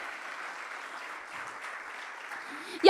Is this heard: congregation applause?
yes